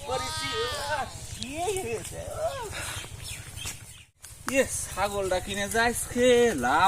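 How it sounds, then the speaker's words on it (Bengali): A large goat bleats repeatedly in wavering, nasal calls, close and loud, amid men haggling at a livestock sale, with several bleats crowding together after a short pause. "সেই বিশাল ছাগল একটা কিনেছি ভাই"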